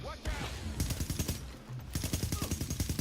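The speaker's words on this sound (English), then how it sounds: "So I hit him with a grenade" Rapid automatic gunfire in the shooter The Division, with dense close bursts of shots, a brief pause, then more firing; no distinct grenade blast stands out.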